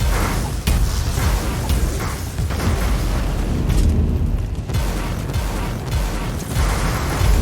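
Rocket launcher blasts in the action game Warhammer 40,000: Inquisitor. Loud, sustained booming explosions rumble one after another, with dense battle noise filling the whole stretch and no talking.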